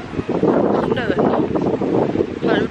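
Cold wind gusts at a beach in Sydney, buffeting the microphone as a steady loud rumble, with someone talking over it throughout.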